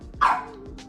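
A single sharp dog bark rings out nearby, loud and brief, followed by quiet.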